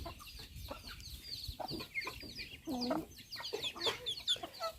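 Chickens cluck repeatedly at a rural Thai farmyard, a busy run of short, fairly close calls with chicks and other birds chirping around them and a little background noise.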